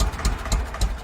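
A tractor engine runs at a steady idle, a loud, close, low chugging with rhythmic pulses repeating about every quarter second, with no voices.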